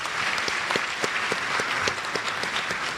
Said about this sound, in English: Ladies and gentlemen, a resounding round of applause.